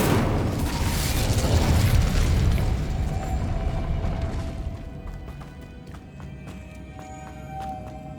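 A fire spell cast in Hogwarts Legacy bursts out as a loud, roaring whoosh of flame that rumbles for several seconds, then dies down into quieter game ambience with faint chimes.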